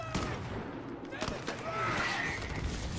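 Scattered gunshots sound in the video game Call of Duty Modern Warfare (2019), fairly faint and distant, a few sharp cracks over a steady rumbling battlefield background.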